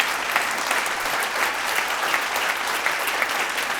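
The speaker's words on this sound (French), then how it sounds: "Un tonnerre d'applaudissements pour lui." Dense, continuous applause from an audience at a fashion event welcoming a guest to the stage, loud and uniform from start to finish with no break.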